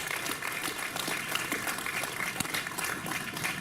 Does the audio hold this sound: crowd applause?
yes